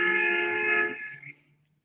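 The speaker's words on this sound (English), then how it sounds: "The guy just honked his fucking horn like that" A car horn honks outside in one sustained, fairly loud blast that cuts off abruptly and then fades, with nobody talking over it.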